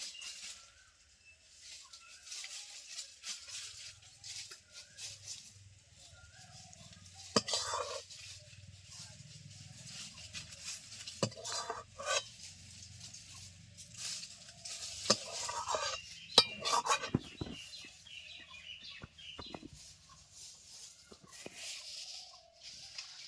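Raw green mango chutney, cooked in a village-style home kitchen, is spooned from a pan onto a plate: a run of soft scrapes and clinking spoon-on-metal and plate sounds, moderately close, with no talk.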